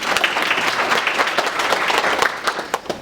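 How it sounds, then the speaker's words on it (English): Enthusiastic applause from a school business-competition audience fills the room, a dense steady patter of many hands clapping with no voices over it, tapering slightly near the end. "Give her a round of applause."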